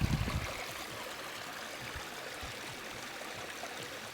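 River water flowing steadily, a continuous broadband rush with faint low gurgles, a slightly louder burst at the start, then an even, unbroken wash throughout.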